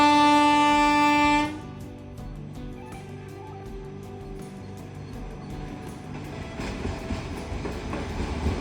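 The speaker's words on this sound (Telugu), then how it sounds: "ఆ క్రాసింగ్ వచ్చేసి ట్రైన్ ఇప్పుడు వస్తుంది." A train rolls past a railway crossing on the Hyderabad to Goa route, a steady broadband rumble with faint clicks of wheels on track that grows louder toward the end, after a brief tonal sound at the start.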